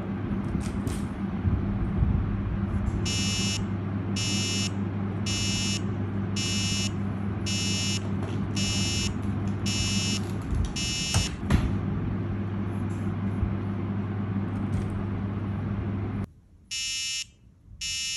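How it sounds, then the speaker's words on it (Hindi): A micro:bit door alarm with a magnetometer sensor sounds a buzzer in a string of evenly spaced, loud electronic beeps, about nine in a row, then a short pause and two more, over a low steady hum. "जो हमारा रिसीविंग माइक्रोबिट है वो अकॉर्डिंगली अलार्म बजा रहा है"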